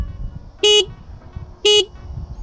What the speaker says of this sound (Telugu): అండ్ హార్న్ మీరు చూసుకోవచ్చు.